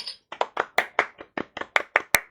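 A single person claps their hands alone, about a dozen sharp, uneven claps spaced over two seconds, close and moderately loud with no talking.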